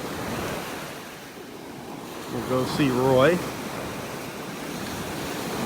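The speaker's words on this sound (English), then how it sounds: "enjoy the sounds of the waves this morning" Ocean waves break steadily on a beach in North Naples, Florida, on a breezy morning, a constant wash of surf with wind buffeting the microphone while someone briefly speaks in the middle.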